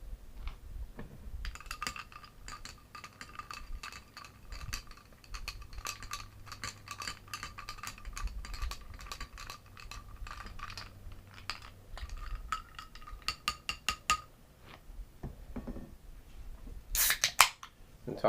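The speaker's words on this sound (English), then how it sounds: "Now you want to give that a quick stir." A Magic the Gathering Elixir of Immortality cocktail stirred in a glass, with a long run of rapid, light clinking and ticking of spoon and ice against the glass, then sharper taps near the end.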